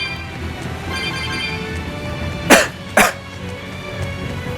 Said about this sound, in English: Yes, still have cough from COVID.